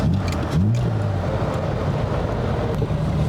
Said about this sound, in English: It's just a lovely noise, isn't it, that engine? Beautiful noise, straight six. Just purrs.